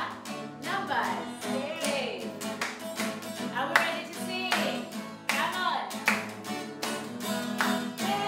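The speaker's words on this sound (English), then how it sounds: "Clap, clap, clap." Hands clap in a steady rhythmic pattern during a baby class's sing-along maths lesson, crisp repeated claps layered over music and singing voices, keeping time throughout.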